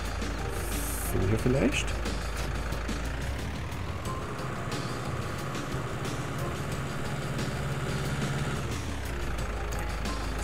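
Farming Simulator 19 vehicle engine droning steadily as it drives forward and reverses, with a brief beep early on, while someone talks over it.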